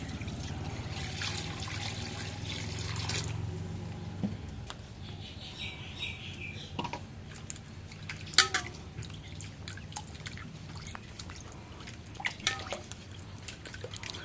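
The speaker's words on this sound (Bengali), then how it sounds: "এখন মাংসটা ধুয়ে নেই" Broiler chicken meat is washed with water, giving faint drips, trickles and splashes with sporadic sharper clicks and knocks in a quiet room, plus a low hum early on.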